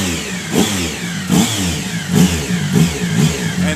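A 2011 Triumph Speed Triple motorcycle with an aftermarket intake revs repeatedly, each loud, close blip of engine growl swelling and falling back in a steady rhythm of about five throttle bursts.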